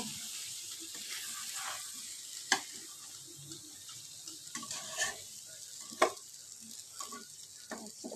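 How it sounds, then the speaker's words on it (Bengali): Prawns and taro root stirred in a frying pan, with a steady soft sizzle, scraping stirs and occasional sharp spoon taps against the pan, fairly quiet and with no talking. "এটাকে নাড়াচাড়া দিয়ে আবার আমি একটু ঢেকে দেবো দেখো কষাতে কষাতে লেগেও গেছে"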